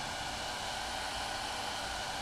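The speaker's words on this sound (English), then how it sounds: "Then I'll heat up the neck area and the body area with the hairdryer." A hairdryer blows hot air onto the neck joint and body of an Epiphone Model 3 guitar during a neck reset, a steady, even, hissing whoosh with no other sounds.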